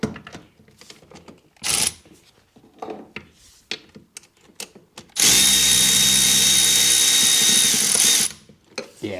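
A power tool or socket driver spins a nut and bolt off a Seadoo RXDI trim module in one loud, steady whirring burst of about three seconds, preceded by short clicks and metal handling.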